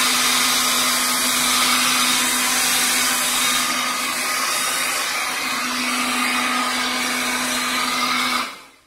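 Homemade leaf blower fan driven by an 18-volt drill battery runs steadily as a loud, close whirring drone with a constant motor tone, cutting off abruptly at the end.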